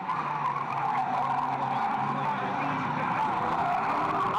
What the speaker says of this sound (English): Mark Hopkins, he's out of it, but he's going to put a lunge on Keithley, and he spins Keithley out of it.